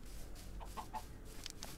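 A few soft chicken clucks in Minecraft sound faintly over a low ambient hum, short scattered calls spread across a couple of seconds.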